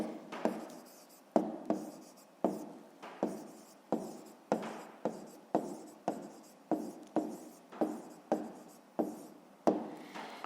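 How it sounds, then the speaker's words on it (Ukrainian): A pen writing on paper while working a fifth-grade maths exercise, a close, quiet, scratchy rhythm of roughly a dozen short strokes repeating steadily, alone without speech. "Ну що ж, а тепер записуємо відповідь. Пишемо відповідь."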